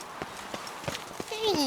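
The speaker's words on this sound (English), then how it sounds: "Where is my fucking horse?" Horse hooves clip-clop in the Witcher 3 video game, with evenly spaced, moderately loud steps at a walking pace, followed near the end by a brief rising tonal sound.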